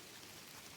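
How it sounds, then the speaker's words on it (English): Steady rain mixed with snow falls outdoors, a dense, even hiss of drops on surfaces with no break or change across the short stretch. "Yep, here comes the actual rain."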